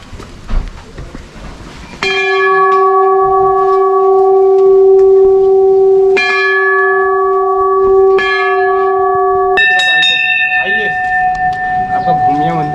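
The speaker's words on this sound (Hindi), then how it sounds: "यहाँ पे जो घंटियाँ बनी है यहाँ पे देख सकते हो किस प्रकार है" Metal temple bells at Bhumiya Dev temple in Uttarakhand ring in several loud, sustained strikes, each leaving a long resonant hum. A voice talks faintly before the first strike.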